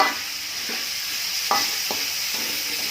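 Fish frying in a pan while being stirred, a constant sizzle with a few distinct scraping stir strokes, close and alone without speech.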